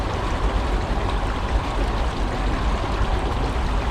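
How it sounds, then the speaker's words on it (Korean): Flowing stream water in Saetgang Ecological Park, a park in Yeouido, rushing steadily and loudly up close as a dense, continuous babble with no voices. "잠시 물소리를 들으며 휴식해 보시죠."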